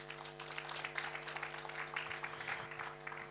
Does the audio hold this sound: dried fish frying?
no